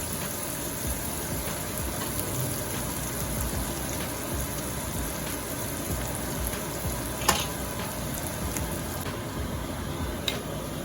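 Short ribs searing in a very hot pan, a loud steady crackling sizzle with sharp pops throughout, heard up close with no talk.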